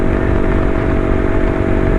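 Honda Grom motorcycle with a Two Brothers exhaust running steadily close by, a loud, constant raspy engine drone with no change in pitch and no talking.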